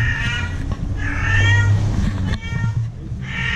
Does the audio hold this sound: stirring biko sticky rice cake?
no